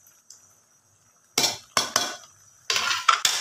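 Green tea leaves whisked in a pot for Kashmiri chai, a metal whisk clattering and clinking against the pot in several close, loud bursts with short pauses between them.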